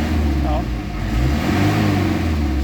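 An Isuzu Crosswind engine with a low-power fault revs at around 1,500 to 2,000 RPM, a steady, loud, rumbling drone that holds throughout, with a voice talking over it.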